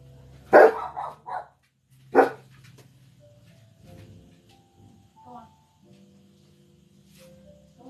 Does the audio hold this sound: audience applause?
no